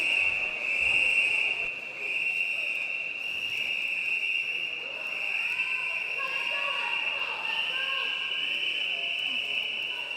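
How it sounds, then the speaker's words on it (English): At the 2022 Lancashire County Swimming Championships, a shrill, steady whistle blows and holds throughout, signalling two lengths left, over the echoing noise of a pool hall with a faint murmur of voices. "So the whistles tell the swimmers that they've got 2 lengths left."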